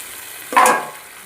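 Mutton and onions frying in a pan while being stirred, a single close, sharp sizzle and scrape that flares up briefly and fades away.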